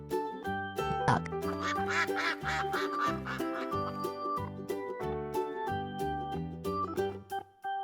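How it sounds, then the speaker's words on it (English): A duck quacks in a quick series of nasal calls over a bouncy, rhythmic music track. The calls are close and clear. "Duck."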